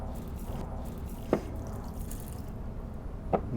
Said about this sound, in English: You see the soil soaking, the water soaking into the soil.